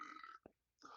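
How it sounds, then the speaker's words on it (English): A single short burp, low and throaty, bursts out in a quiet gap between stretches of speech from someone talking on a podcast. "Oh, I'm gonna burp."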